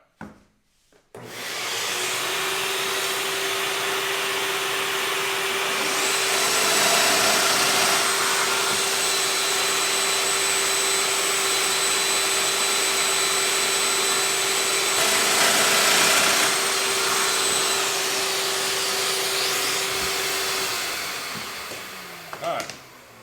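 Machine cutting mortises in wood for a window table, a steady loud whine with a constant tone running about twenty seconds, swelling twice in intensity, then cutting off.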